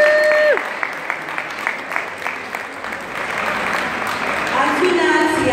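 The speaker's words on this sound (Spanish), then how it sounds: "Así que otro aplauso" Audience clapping at a testimonial gathering, moderate applause running through the clip with some tonal sounds and voices mixed in.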